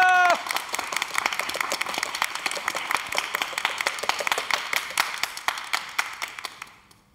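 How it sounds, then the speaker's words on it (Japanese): A small studio crowd on a children's TV show set claps steadily in sharp, distinct hand claps that carry on for several seconds before stopping. "拍手。"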